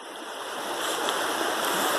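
A fast-flowing, flooded creek rushes steadily, a loud, continuous broadband roar of moving water close by, with no voices.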